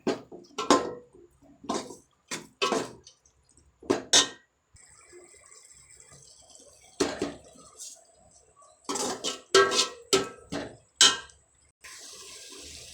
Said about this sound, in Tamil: இந்த இஞ்சி பூண்டு வாசனை கொஞ்சம் மாறணும் அது வரைக்கும் நல்லா வதக்கிக்கோங்க